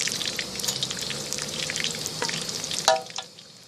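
Crispy pork belly frying in hot oil, with a steady bubbling sizzle and scattered small pops, one sharper crackle near the end, heard up close with no talking.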